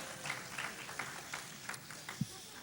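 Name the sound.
audience applause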